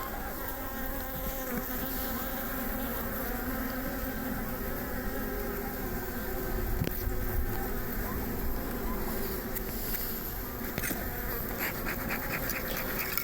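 Honeybees buzz around an open hive during a winter colony check, a dense, continuous hum of many wings with scattered louder passes close by, steady and moderately faint throughout.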